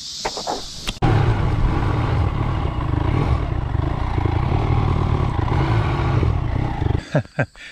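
A Royal Enfield Himalayan adventure motorcycle pulling away on a ride, a loud close engine roar that kicks in after a second and holds steady for about six seconds before easing off, with brief voice sounds at the start and end.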